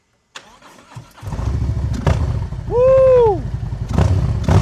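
A 2019 CVO Street Glide motorcycle's engine cranks and catches into a rough, throbbing idle, then swells into one strong rising-and-falling rev before settling back. A voice gives a short excited shout.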